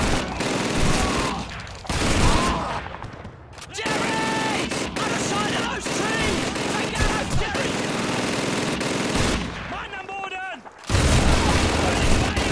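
A German machine gun firing in the video game Call of Duty 2, sustained rapid bursts with booms and battle noise, a short pause near the end, while voices talk over the fighting.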